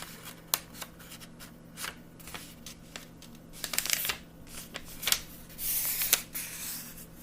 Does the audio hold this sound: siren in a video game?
no